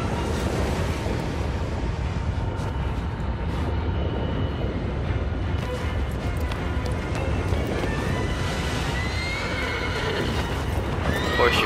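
A horse gallops in the Shadow of the Colossus video game under a dense, loud wash of rushing noise like wind or surf, with hoof rhythm and a whinny near the end, continuous and full.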